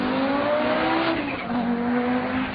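Race-spec Audi Quattro S1 rally car driving, its engine note loud and continuous with shifting pitch and some tyre noise throughout.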